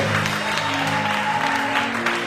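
A church congregation claps and acclaims during a French sermon, with steady crowd applause over sustained keyboard chords that hold throughout.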